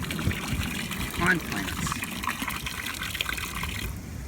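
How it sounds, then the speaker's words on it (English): Dechlorinator liquid is poured into an outdoor koi pond in Minnesota, a soft, steady trickle and splash of liquid into water heard close while a person talks over it. "So I'm going to just pour those right in the pond."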